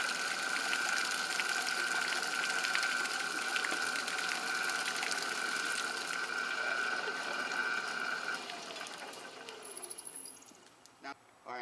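A homemade water pump running steadily with a whirring motor tone and the rush of water, loud and continuous. It fades and cuts out toward the end with a few clicks.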